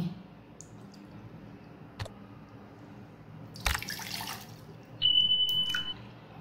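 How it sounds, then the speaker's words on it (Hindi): Two cups of water poured into a saucepan for lemon tea: a brief, fairly quiet splash of pouring water in the middle of a low background hum, followed by a faint steady tone. "2 कप पानी डालेंगे।"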